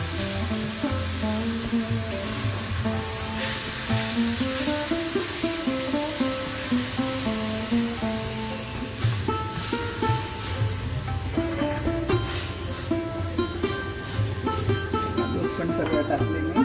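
Milk poured into roasted vermicelli in a hot pan for a sweet mango shevaya dish sets off a steady, hissing sizzle that carries throughout, over a tonal background that sounds like music.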